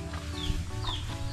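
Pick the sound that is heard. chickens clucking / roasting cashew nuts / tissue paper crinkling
chickens clucking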